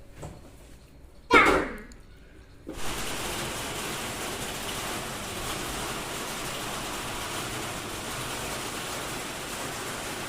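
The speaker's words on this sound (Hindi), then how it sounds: "बारिश आ गई।" Steady rain hisses after a brief loud knock or slam near the start, settling into a continuous even wash of noise for the rest of the clip.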